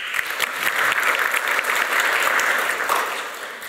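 Audience applause at a Polish conference session on a century of rural development, a dense burst of clapping that swells and holds for a few seconds before tapering off.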